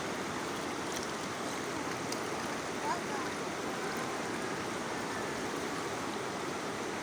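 Floodwater rushing along a riverside in a village after a night of heavy flooding, a steady, loud broadband roar of churning water that fills the whole stretch without pause.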